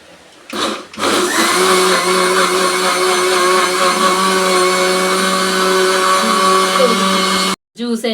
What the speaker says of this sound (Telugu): ఇప్పుడైతే మిక్సీ పెట్టేసుకుందాము